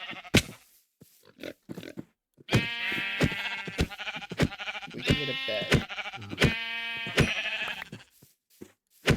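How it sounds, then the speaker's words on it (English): Minecraft sheep bleat in a rapid string of short, harmonic-rich cries, close and fairly loud, with a few clicks and brief speech before the bleating begins. "Oh yeah, sheep."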